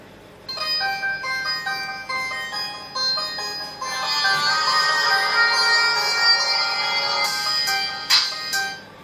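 Tinny melody played from the small built-in speaker of a Fire-Boltt Solace smartwatch, a bright electronic tune heard close and alone, growing fuller midway before ending in a few sharp notes.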